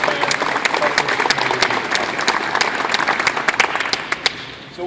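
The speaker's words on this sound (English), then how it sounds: "So give yourselves a round of applause." Fans at a Cedar Rapids Titans announcement at the US Cellular Center give a round of applause: dense crowd clapping, loud and sustained, thinning toward the end.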